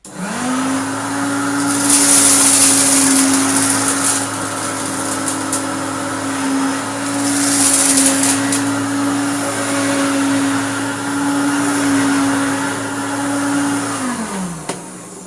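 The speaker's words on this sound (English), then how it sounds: "I'm under no illusion this is a Hoover Turbo Power" A Hoover Turbopower Junior U1426 vacuum cleaner, restored, runs steadily from start to finish with a loud motor whine and rushing airflow that swells twice before it powers down near the end.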